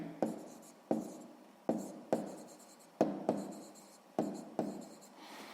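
Pen strokes on paper while working out a sixth-grade math solution: a quiet, close series of about ten sharp scratchy taps, each fading quickly, in a steady rhythm.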